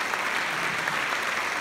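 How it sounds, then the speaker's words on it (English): Applause from a concert audience at Morgan State, a dense, steady wash of clapping that holds evenly for the whole short stretch with no voices on top. "Give them another round of applause"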